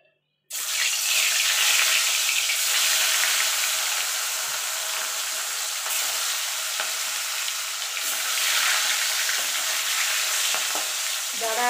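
Rohu fish pieces frying in hot oil for a cauliflower fish curry, a steady loud sizzle that erupts suddenly and holds strong throughout with small crackles and pops, no voices.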